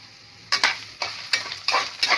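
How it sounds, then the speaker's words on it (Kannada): Spices fry in hot oil in a pan for a chicken semi-gravy, with a loud close sizzle. About six sharp scraping stirs come at uneven intervals, with no voices. "ಈ ಥರ ಐದು ನಿಮಿಷ ಫ್ರೈ ಮಾಡ್ಕೊಳ್ಳಿ"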